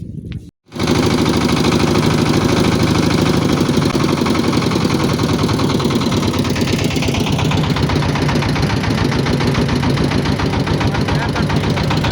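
A trawler boat's diesel engine on the Jamuna River starts up and idles loudly, a steady close-up chugging rumble that continues without pause.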